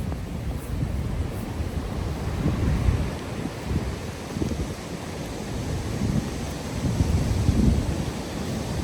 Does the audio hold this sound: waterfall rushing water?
yes